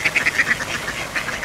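Ducks quack in a rapid, nasal run of calls, fairly close and loud, with a short pause before more quacks, set outdoors.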